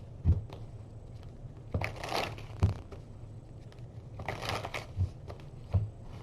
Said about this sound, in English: We're going to do the shuffle and cut